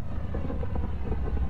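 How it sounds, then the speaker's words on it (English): A spacecraft descent engine engaging in the video game Mass Effect Andromeda: a steady, loud low rumbling roar with no break, close and filling the whole stretch, with no voices. "Descent engine engaged."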